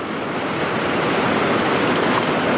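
Steady roar of river whitewater rapids with 2-3 foot waves, a continuous dense rush of churning water that stays loud and even throughout with no voices.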